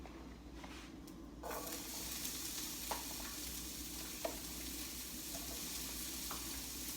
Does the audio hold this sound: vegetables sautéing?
yes